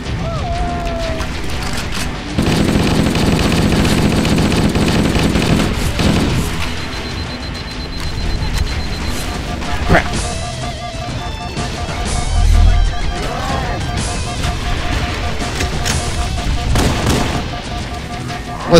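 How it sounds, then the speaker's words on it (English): Assault rifle fire in Halo CE: dense, loud bursts of rapid shots over a busy game soundscape, with sharper impacts and booms scattered through. "I can do this with my assault rifle."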